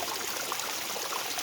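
A backyard pond waterfall with two pumps running at once sends a heavier flow down over the rocks. The rush and splash is steady and continuous, close by and fairly loud, with no voices.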